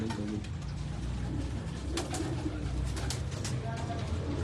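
A Kasuri pigeon on a rooftop loft gives soft, low rolling coos close by, blended with light background noise and occasional voices of people nearby.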